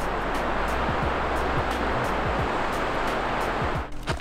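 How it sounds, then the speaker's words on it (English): Water rushes far below in the Grand Canyon as a steady, broad roar that stays constant throughout, with faint thumps and rustles close by. "Can't see it, but you can hear the water down there."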